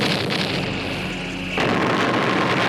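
Megatron firing his crystal-powered weapon in the 1984 Transformers cartoon, episode "Fire on the Mountain": a loud, dense roaring blast that sustains, then surges into a harsher rumbling burst with no pause.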